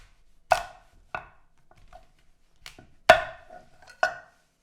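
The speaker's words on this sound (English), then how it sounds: "And then I will just cut this off right here. And probably cut these in half will be fine." A knife chops through butternut squash on a board in six crisp strikes at an uneven pace, with quiet gaps between them and no talking.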